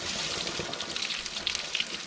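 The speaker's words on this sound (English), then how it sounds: "That post-ride rinse off." Water rinsing off a mountain bike and muddy gear after a ride, a steady close hiss and splash of spray with brief louder spatters, no talking.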